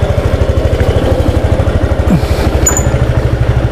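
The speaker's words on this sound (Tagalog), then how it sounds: "Yan yung motor." A motorcycle engine idling up close in the early morning before a group ride, a loud, steady, evenly pulsing putter with a faint brief squeak in the background.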